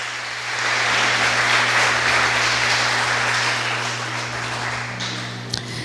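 A church congregation at a family service claps together in a sustained, dense burst of applause that fades gradually, with an organ or keyboard drone underneath.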